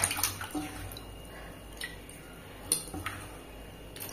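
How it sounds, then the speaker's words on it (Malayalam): Cut aloe vera pieces are rinsed by hand in a container of water, making soft sloshing and splashing with a few light knocks. The sounds are quiet and close, with no talking. "നല്ല വെള്ളത്തിൽ കഴുകിക്കുവാണേ"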